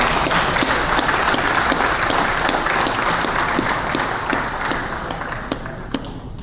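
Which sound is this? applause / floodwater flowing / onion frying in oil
applause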